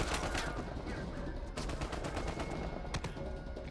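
Rapid automatic gunfire in Uncharted 4, bullets striking the player character in a prison setting, dense bursts of shots rattling continuously with a few louder cracks standing out.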